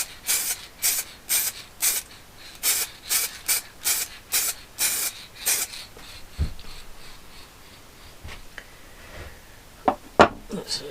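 An aerosol can sprays finish onto wooden pen blanks indoors, a run of short close hisses in a regular rhythm, followed by quieter handling knocks and rustles.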